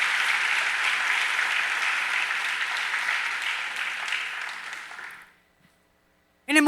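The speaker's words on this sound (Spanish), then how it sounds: "¿Cuántos dan un aplauso por eso al Señor?" A church congregation applauds loudly and steadily for about five seconds before the clapping fades into near silence, with a brief burst of sound returning at the very end.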